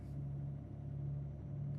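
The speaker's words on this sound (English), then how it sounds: "I like the sound of big trucks like this" A big long-haul truck's engine drones steadily at idle or cruise, a continuous low rumble with a faint high whine, close and unbroken with no talking.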